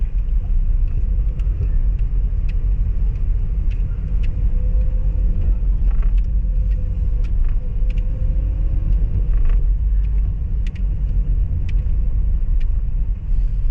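A Toyota Vios on a road test after a transmission repair, heard from inside as a loud, steady low road rumble and engine drone with faint ticks and clicks throughout.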